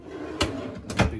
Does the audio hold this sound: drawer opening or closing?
yes